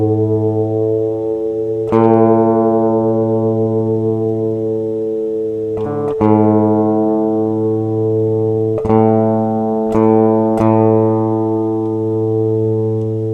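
Guitar string ringing against a steady electronic reference tone, the two pitches slightly mismatched so a slow warbling beat pulses through the sustained sound, with several fresh plucks sounding over the continuous drone.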